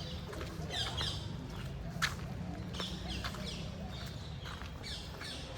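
A bird calls repeatedly with short, sharp squawks at a distance during an outdoor walk in Surat in the rainy season, over a steady low background hum and occasional footsteps.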